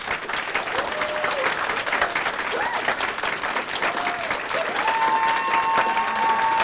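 An audience at a municipal council meeting claps steadily throughout, a dense wash of applause with a few faint tones rising above it.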